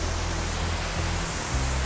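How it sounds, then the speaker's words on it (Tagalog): The Wachirathan waterfall at Doi Inthanon roars as a dense, steady rush of falling water heard up close, broadband and unbroken with no voices over it. "So yan na guys ang waterfall."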